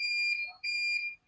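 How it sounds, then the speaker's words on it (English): A battery backup unit for an internet connection beeps during a power outage in the Caribbean, giving a sustained high electronic tone that breaks off briefly and then resumes. It is steady and fairly loud, with no talking. "That beeping you're hearing is part of living in the Caribbean."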